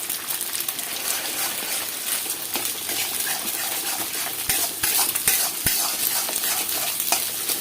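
Four eggs stirred and fried over a high flame for egg fried rice, a steady loud sizzle running throughout with a few sharp scrapes and clinks of a spatula against the pan.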